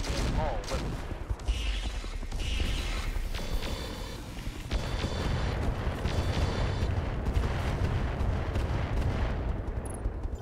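Mech weapons firing in the BattleTech video game with the RogueTech mod: dense volleys of booming shots and rattling bursts, loud and continuous, with repeated salvos overlapping for the whole stretch.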